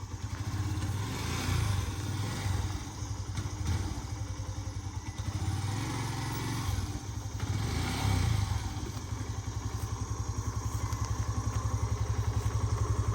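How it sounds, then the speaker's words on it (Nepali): Motorbike engine running steadily throughout as it is ridden, a continuous close, loud drone with slight swells in revs and some rattling clatter, no voices. "यहाँ बाइक उडाउनु लाग्छ"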